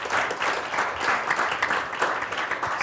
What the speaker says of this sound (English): Applause is coming.